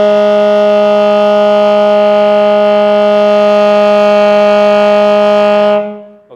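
A saxophone holds a single long growled note while the player sings into the horn, giving a steady, buzzing, harmonically rich tone that stays loud and even before cutting off abruptly.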